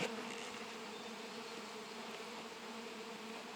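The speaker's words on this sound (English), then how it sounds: "start moving the bees to the bigger hive" A very large honeybee swarm is being moved from a small five-frame nuc into a bigger hive, giving a steady, dense buzzing drone that stays close and continuous throughout.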